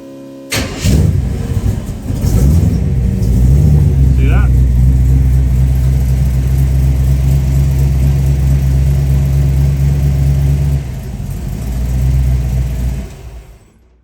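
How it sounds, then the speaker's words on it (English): A car engine cranks briefly, catches and roars to life, then settles into a loud steady idle before cutting off near the end; the car has a three-wire alternator. "When I crank the car and get that alternator fired up"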